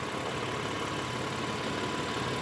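BMW M4 F8x engine idling steadily on a lift in a workshop, a continuous even drone with a low rumble and a faint tonal whine, loud and close with no talking.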